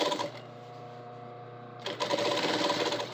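Sewing machine double-stitching the bottom of a fabric pocket, a close, steady mechanical whir that runs, pauses briefly, then resumes louder.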